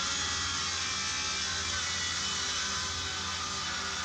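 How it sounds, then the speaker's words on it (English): A power saw cuts an OSB board to size for a roof, a steady loud high whirring buzz running unbroken throughout. "Next bit is the roof, and it's mostly just an OBS board being cut into size."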